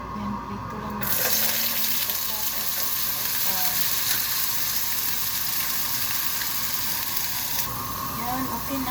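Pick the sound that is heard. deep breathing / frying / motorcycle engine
frying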